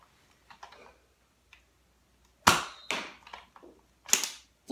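A Nerf Crosscut blaster fires darts down a house hallway, sharp sudden snaps with short decaying tails, two loud shots among several quieter clicks and rattles, close by, with no talk.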